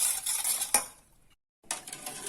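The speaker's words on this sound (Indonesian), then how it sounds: "jadi ini kita aduk-aduk dulu supaya tidak mengerak di bawah" A spoon stirs a chocolate caramel pudding mixture of milk, water, salt and sugar in a pot over low heat, giving scraping swishes against the pan bottom, then a brief pause before stirring resumes.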